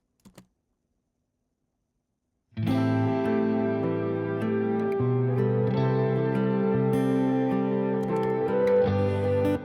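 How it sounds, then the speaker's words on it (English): Several guitar parts stacked together in a pop production mix, starting after a brief silence with a couple of faint clicks, then a dense, sustained wash of chords and ringing notes, loud and continuous with no voices. "altogether the guitars sound like this"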